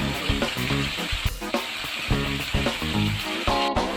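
Rohu fish curry masala with chilli paste and a little water is sautéed in a pan, a loud, continuous sizzle broken by rhythmic scraping and clattering of the spoon, with possible background voices or music.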